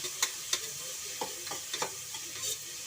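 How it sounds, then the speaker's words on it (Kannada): Onions sizzling in a hot pan, with a soft steady hiss broken by several sharp clicks and scrapes as they are stirred. "ಈರುಳ್ಳಿ ಚೆನ್ನಾಗಿ ಫ್ರೈ ಆಗಬೇಕು."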